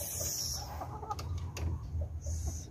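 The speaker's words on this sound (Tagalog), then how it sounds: "mga bae nga chicken." Chickens, including hens and a rooster, cluck in short scattered calls over a steady background hum, moderately close with no talking.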